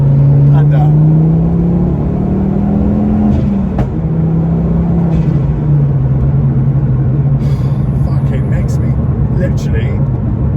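A Mk2 Ford Focus ST with a Milltek exhaust and around 313 bhp drops from fifth to third gear on the road, its engine droning loud and close with rises in revs, under steady cabin rumble and a speaking driver.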